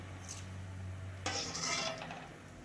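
Raw banana slices deep-fry in hot oil for crunchy chips. A soft low hum gives way to a sudden burst of hissing sizzle, with a few faint metallic clinks of a stirring utensil against the pan.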